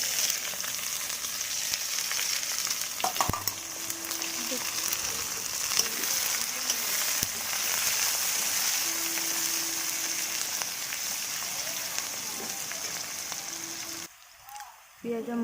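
Onions frying in hot reddened oil, a pinch of sugar already added for colour, while preparing an Odia fish and potato curry; a steady, dense sizzle fills the whole stretch, with soft stirring knocks and a brief dip near the end.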